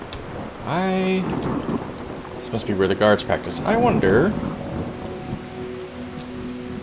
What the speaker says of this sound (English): wandering around in the rain.